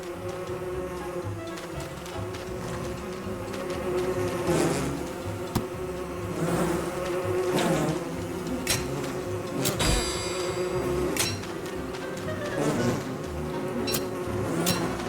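Swarms of killer bees in a video game, a steady dense buzzing drone with scattered sharp clicks and metallic ticks over it, continuous and fairly close.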